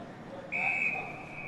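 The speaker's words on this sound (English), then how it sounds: "So a whistle here, as we just see, might be a 6-6-6 warning perhaps" A single sustained umpire's whistle blast at an under-18 Australian rules football match, shrill and steady for about half a second over crowd and commentary murmur.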